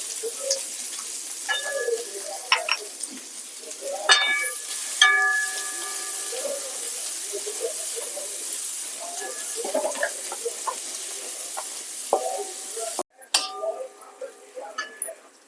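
Chopped onions fry in oil in a pan, a steady bright sizzle running throughout, with occasional scraping and clinking as they are stirred, close and fairly loud.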